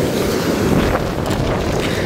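Water surges forcefully from an opened sluice gate at a tank, a loud continuous rushing roar with heavy wind buffeting close by.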